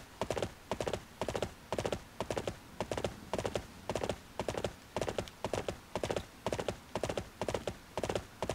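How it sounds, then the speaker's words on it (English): Horse hooves pound in a quick, even galloping rhythm through water in Dynasty Warriors 8: Xtreme Legends, each beat a sharp, close thud repeating steadily throughout. "he rides his horse through the water"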